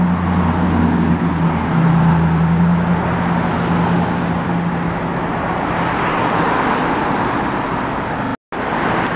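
Continuous roadway traffic on a Houston street, cars rumbling past one after another in a steady, fairly loud wash with a low engine drone, broken by a momentary dropout near the end.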